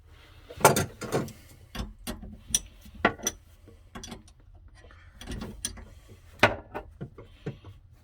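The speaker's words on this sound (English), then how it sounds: "so that's going to be a 1/2 inch wrench. I'm just going to use it to the side a little bit" A 1/2 inch open-end wrench works a fitting while a reverse osmosis system with an ice maker hookup is installed, giving scattered sharp metallic clicks and clanks at an uneven pace, close by with quiet gaps between them and no speech.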